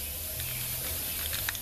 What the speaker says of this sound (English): all we want to do now is just start spraying